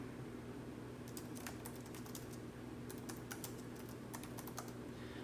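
Typing on a computer keyboard: light, quick clusters of key clicks in uneven bursts over a steady low hum, close and fairly quiet, with no one talking.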